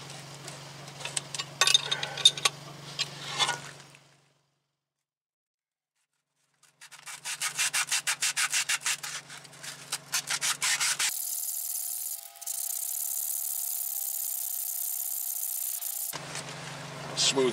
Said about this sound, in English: Smooth it down more and take the high spots off.